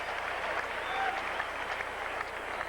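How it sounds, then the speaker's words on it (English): Baseball crowd at an Expos versus San Francisco Giants game applauding a catch on a foul ball, a steady broad wash of clapping and crowd noise at moderate distance throughout. "The applause was, I assume, for a nice catch on the foul ball."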